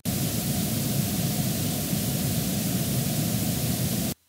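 A loudspeaker at full power plays a pink noise test signal, a loud, steady, waterfall-like hiss that holds evenly for about four seconds and then stops abruptly.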